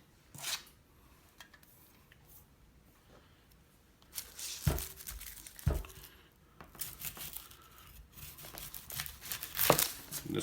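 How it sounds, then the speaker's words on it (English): An onion being cut up on a board for a beef fajita marinade: a few sharp, crisp knife chops and crinkly skin rustles in separated bursts, close and fairly quiet. "Get this onion cut up."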